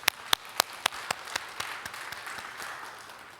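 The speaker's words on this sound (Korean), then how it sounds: "우리 하나님께 감사와 영광의 박수 올려드리겠습니다." A church congregation claps during a Sunday worship service: a few sharp, separate claps open, then they thicken into a steady wash of applause across the room, with no talking over it.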